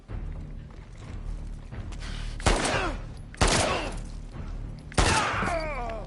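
Gunshots in The Last of Us Part II Remastered video game, three sharp loud blasts spaced about a second apart, each followed by a ringing decay, over a low continuous game ambience.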